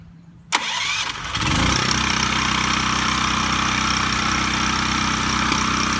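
A Duromax XP4850 hybrid generator, primed with the choke open, cranks with a brief rattle, then catches and settles into a loud, steady engine drone that continues to the end.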